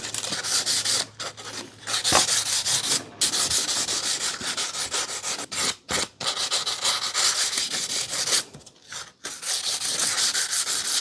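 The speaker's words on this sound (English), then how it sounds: "I actually put it on the sanding disc, so that's okay now." Steady abrasive sanding of a wood edge on a sanding disc, a continuous gritty rub with a few brief pauses and shifts in pressure, close and fairly loud.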